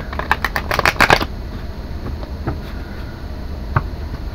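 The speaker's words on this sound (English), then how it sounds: "we're going to do a little bit of shuffling here" Tarot cards riffle-shuffled in a quick burst of crisp flutters during the first second, then a few isolated soft card taps in a quiet room.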